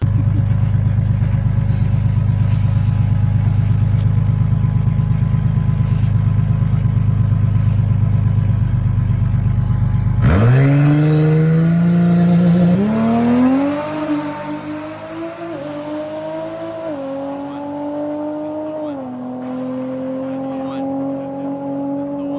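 A Toyota Supra A90 with a B58 engine thunders on a quarter-mile drag run: a deep loud rumble, then a sharp launch into a screaming climb in revs broken by several quick gear shifts that carry on toward the distance.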